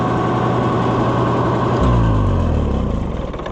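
Oliver 1655 tractor engine running loud and close, then shut off partway through, its steady idle dropping into a sputtering, slowing run-on as it diesels and winds down.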